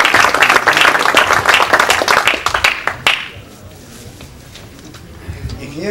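Loud applause fills a ceremony honouring engineers for 25 years of service. Fast, dense clapping runs for about three seconds, then drops sharply into quieter room sound with faint scattered noise.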